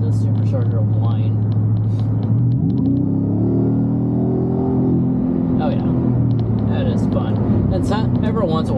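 A supercharged 5.2-liter V8 in a Ford Raptor R rumbles loudly while cruising twisty roads, with a supercharger whine rising and swelling midway before settling back.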